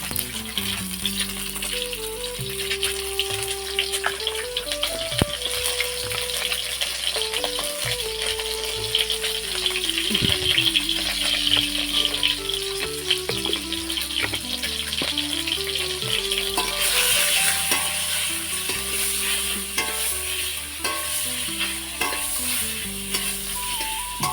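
Whole cardamom, cloves and cinnamon sizzle steadily in hot oil for an egg curry, a loud continuous crackling hiss that runs throughout alongside melodic background music, with no voices.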